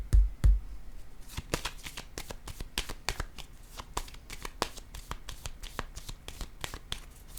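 Tarot cards are shuffled by hand in a quick run of crisp, rapid riffles and papery flicks. The sound is close and steady with no talking.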